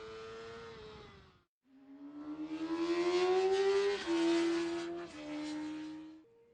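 Yamaha YZF-R6 sport bike at full throttle on a race track, engine note climbing loudly through the revs with brief dips at gear changes, close and continuous, no talking.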